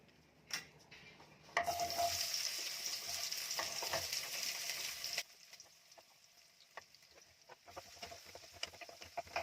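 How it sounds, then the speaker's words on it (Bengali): Garlic and vegetables fry in hot oil in a wok for a homestyle masala pasta, a loud broadband sizzle surging in after a couple of seconds, then quieting to a softer crackle with scattered stirring clicks, no voices. "কড়াইয়ে তেলটা গরম হয়ে গেছে, এক এক করে সব দিয়ে দিই"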